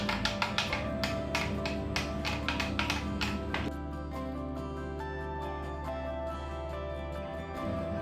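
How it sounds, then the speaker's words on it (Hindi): A raw mango juice drink is stirred in a vessel, with a quick run of sharp clinking taps from the utensil at first, then fading into quieter swirling. "और अब हम इसे अच्छी तरह मिक्स कर लेंगे।"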